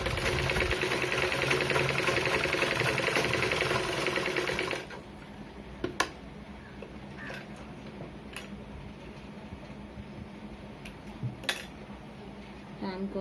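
A sewing machine stitching a blouse runs in a steady, fast mechanical whir for about five seconds, then stops, leaving quiet room sound with a few light clicks and taps.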